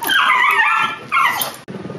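A dog lets out two drawn-out, high-pitched whimpering yips, up close and loud, followed by a short gap and a fainter grumbling sound.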